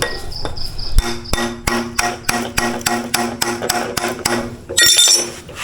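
Sharp hammer blows strike in a steady rhythm while building a DIY clothes rack, about a dozen evenly spaced hits, close and ringing, with a high insect-like chirp in the background.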